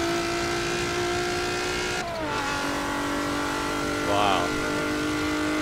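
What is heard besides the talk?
Mitsubishi Eclipse car racing in Forza video game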